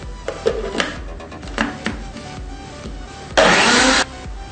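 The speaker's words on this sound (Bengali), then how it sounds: "সবগুলো দিয়ে আমরা ব্লেন্ডারে আবার ব্লেন্ড করে নিব।" A kitchen blender whirs through a borhani drink of sour yogurt, spice powder, salt and sugar. It gives one short, loud, steady burst near the end, after a few quieter clatters.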